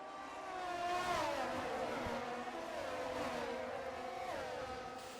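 F1 23 race cars starting a race in Azerbaijan, a dense pack of high-revving engines whining and climbing in pitch together, loud and continuous with overlapping gear changes throughout.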